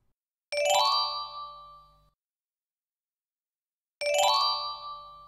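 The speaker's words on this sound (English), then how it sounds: "If you guess correct, we get a happy chime." Two bright synthesized success chimes from the WordGarden word-guessing app, each a sharp bell-like ding with ringing overtones that decays over about a second and a half, separated by silence, no talk.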